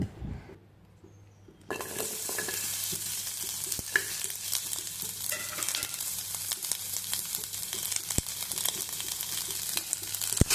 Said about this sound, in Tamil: வெங்காயமும் தக்காளியும் நல்லா வணங்கட்டும்